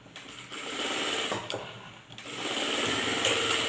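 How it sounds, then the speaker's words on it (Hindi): Single needle lock stitch sewing machine stitching with the back tack lever, a fast steady whirring run broken by short pauses and restarts, close and fairly quiet. "अब मैं बैक टैक लीवर से काम करके आपको दिखाती हूँ"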